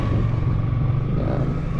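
A motorcycle engine running close by, a steady, loud low rumble with a faint rise in pitch that suggests light revving, and no talk over it.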